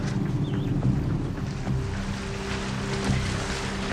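Ocean waves wash steadily around a small rescue boat during an animal rescue, with a continuous low motor drone and broadband water noise and no voices.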